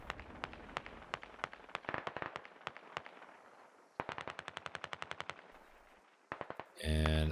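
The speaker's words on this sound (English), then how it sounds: "And it looks like down east we've got shots being fired." Bursts of rapid automatic rifle fire and single shots ring out in the military shooter game Squad, sharp repeated cracks in volleys with short pauses, ending in a louder rumbling blast.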